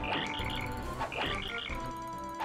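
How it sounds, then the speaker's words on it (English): Chirping, cricket-like attack effect from the Attack FXR badge in Paper Mario: The Thousand-Year Door, repeating in quick rhythmic bursts of trilled tones, clear and alone. "That sounds like a cricket to me."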